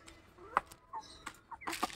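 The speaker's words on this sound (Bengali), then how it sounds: "সকালবেলায় এই যে মুরগিগুলোকে ছেড়ে দিলাম" Chickens let out in the morning to feed give short, scattered clucks and squawks, several separate calls over a quiet background, fairly close and with no one speaking.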